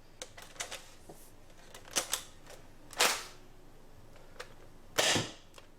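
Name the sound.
NERF Rival Forerunner blaster firing rounds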